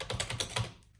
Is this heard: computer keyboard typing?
yes